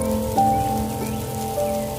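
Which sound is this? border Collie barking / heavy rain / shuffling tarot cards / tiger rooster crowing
heavy rain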